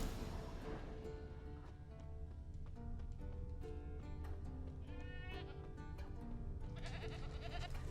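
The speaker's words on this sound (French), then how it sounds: "T'as entendu la chèvre?" A goat bleats repeatedly in The Witcher video game, its wavering calls rising over a layered musical and ambient game soundtrack, moderately close and insistent.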